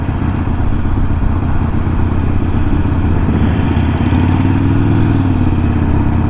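A Harley-Davidson Fat Bob motorcycle engine rumbles nearby at a dockside bike gathering, a loud, steady low throb that rises slightly toward the end.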